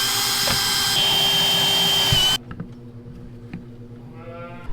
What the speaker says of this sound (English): Now we just drill holes for these nipple holders.